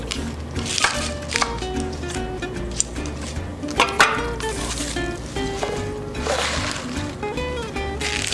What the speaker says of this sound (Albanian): E presim spinaqin në këtë mënyrë.